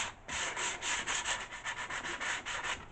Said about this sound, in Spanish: Vale, lijamos un poquito la chapa.